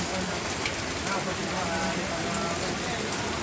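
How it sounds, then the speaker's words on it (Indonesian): Heavy rain falls steadily at a traditional Toraja tongkonan house, a dense, continuous hiss with no breaks, loud and close throughout. "Hujan deras."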